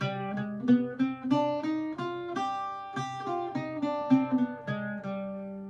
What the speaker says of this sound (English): we're going to use a scale called the Phrygian dominant scale